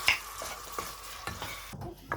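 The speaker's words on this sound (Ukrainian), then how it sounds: "А тут в кастрюлі підсмажується трошки муки на олії." Flour frying in oil in a pot for a sauce, with water then poured in: a soft steady sizzle broken by several short stirring scrapes, and a louder hiss near the end as the liquid hits the hot pan.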